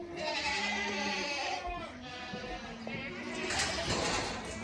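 Goats bleat in a back barn during morning farm chores, several wavering calls near and farther off over a rustling barn background.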